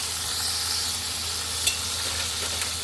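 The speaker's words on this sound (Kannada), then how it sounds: "ಇದನ್ನು ಒಂದು ಸ್ವಲ್ಪ ಚೆನ್ನಾಗಿ ಫ್ರೈ ಮಾಡ್ಕೊಳ್ಳೋಣ." Chopped tomatoes frying in a pan for a Kannada fish curry, giving a steady, fairly quiet sizzle with a couple of brief sharp crackles and no voices.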